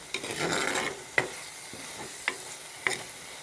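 A spoon stirs sardine curry with tamarind in a frying pan, giving a soft scraping swirl and then three sharp metallic clinks against the pan, close and fairly quiet over a faint sizzle.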